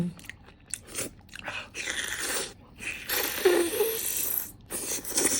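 Crispy Thai fermented red pork sausage (nham) is bitten and chewed close to the mouth, giving repeated crunchy bites and moist chewing in bursts with brief pauses, no talking.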